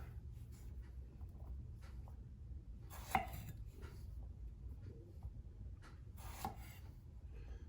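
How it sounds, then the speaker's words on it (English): A knife cuts the tips off jalapeno peppers on a cutting board, giving two distinct sharp chops and some soft scraping and rubbing between them, close and quiet, with no speech. "Cut the very tip of the pepper off."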